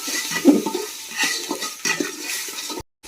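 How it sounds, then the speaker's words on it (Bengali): Spice paste with whole garlic and whisked sour yogurt stir-fried in a pan for a Bengali chicken curry, giving close scraping and stirring with a soft sizzle, steady throughout before a sudden cut near the end. "এটা মশলাটাকে ফ্রাই করে নেব"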